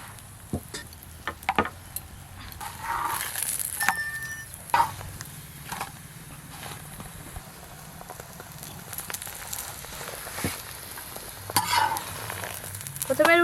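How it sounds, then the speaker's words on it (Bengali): Roll rotis for egg rolls fry in oil in a pan with a steady close sizzle, broken by frequent scrapes and clinks of a spatula turning and pressing the flatbreads. "প্রথমে আমি রোলের রুটিগুলো ভালো করে ভেজে নেব।"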